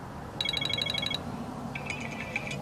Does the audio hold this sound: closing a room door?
no